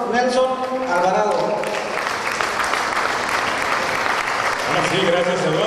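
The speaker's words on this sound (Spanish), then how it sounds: "Por favor, recibímonos con un aplauso, por favor, al señor Nelson Alvarado." Sustained audience applause welcoming a speaker at a Soloma community festival in Los Angeles, dense steady clapping from a crowd, with a voice heard briefly at the start and again near the end.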